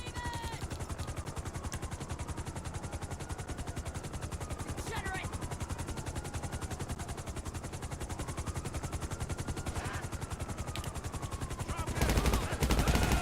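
Rapid automatic gunfire in GTA 5 Online rattles in a steady, dense stream under a police helicopter's thudding rotor, with a louder burst of shots near the end.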